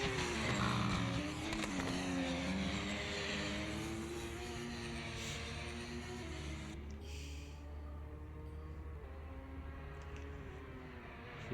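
A GT race car at Donington in a racing video game drones along at high revs with shifting engine pitch and occasional tire noise, steady and fairly loud.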